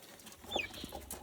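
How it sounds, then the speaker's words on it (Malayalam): Chickens kept at a home give short clucks and squawks nearby, one slightly sharper call standing out against a low background murmur, fairly quiet. "കോഴികൾ സ്ഥലം വിട്."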